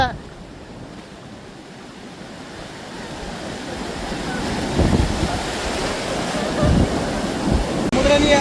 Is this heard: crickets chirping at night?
no